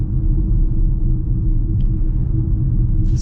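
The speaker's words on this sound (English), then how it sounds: "the GT Mach-E has a much more pronounced propulsion sound compared to" A Ford Mustang Mach-E electric car plays its propulsion sound, a loud, steady low rumble and hum that continues without a break, with a brief faint high tick partway through and no talking.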